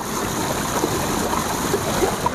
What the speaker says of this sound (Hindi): ये जो आवाज़ है ना पानी की, ये आबशार आ रही है पहाड़ों में से होती हुई